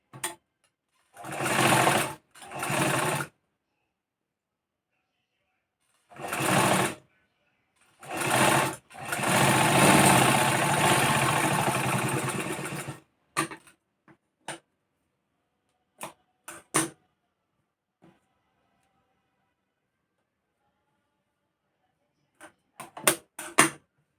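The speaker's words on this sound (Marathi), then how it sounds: "आता आपण या पार्ट जो आहे त्यालाही मारून घेऊ शिलाई" Sewing machine stitching a blouse, running in several short bursts and one longer run near the middle, close and clear, with clicks and ticks between bursts and long stretches of quiet.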